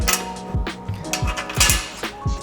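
A ratchet tightening the last bolt on a raised LED bed rack for a Tacoma pickup, giving quick clicking strokes with small creaks and metallic taps, close and fairly soft, with no talking.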